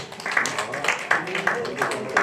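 Applause rises at an award ceremony for a 2024 New Leader prize. Steady, dense clapping from a crowd fills the room, with voices mixed in.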